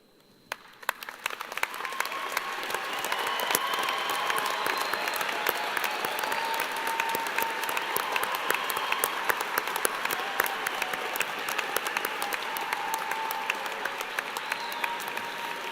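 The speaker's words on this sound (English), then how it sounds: "stand as you are able and be recognized by our applause" Large commencement audience applauding graduating honor students at a university ceremony, sustained dense clapping from a big crowd that starts abruptly and continues evenly, with faint crowd murmur beneath.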